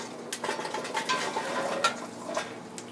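Prepared onions and butternut squash tumble into a warm heavy pot, giving soft clattering thuds and scraping knocks at close range, with a faint kitchen hum beneath and no talking.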